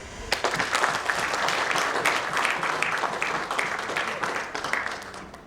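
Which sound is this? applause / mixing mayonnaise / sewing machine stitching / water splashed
applause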